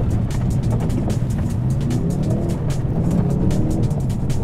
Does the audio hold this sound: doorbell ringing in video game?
no